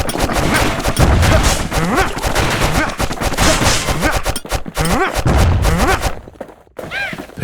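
Enemy gunfire in the action game Bastion: dense, rapid volleys of shots and impacts crackling continuously and loudly, with a brief quieter gap near the end.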